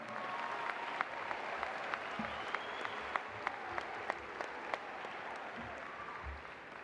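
A graduation crowd in a large hall gives a soft, distant round of applause for senior choir students, a steady wash of clapping with a few sharper individual claps standing out.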